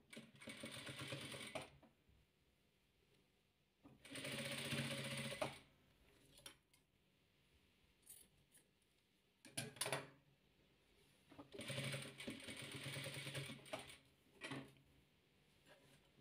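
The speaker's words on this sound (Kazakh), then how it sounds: "Енді өйстіп 5 қатарын тігеміз, айналдыра береміз дәл осылай қылып" A sewing machine stitches rows of a hexagon patchwork quilt in several bursts of steady, close whirring and rapid needle clatter, separated by quiet pauses with light handling of fabric.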